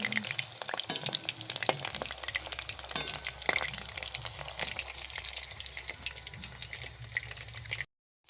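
Chicken pakoras fry in oil in a kadai with a constant close sizzle and bubbling, broken by sharp scraping and stirring clicks, then cutting off abruptly near the end.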